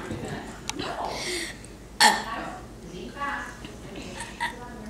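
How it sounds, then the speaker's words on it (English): A burp during a playful burping contest among kids, one short sharp eructation near the middle, surrounded by quieter breathy vocal noises and brief muffled sounds up close. "I shall now burp"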